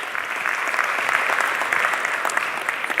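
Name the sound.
applause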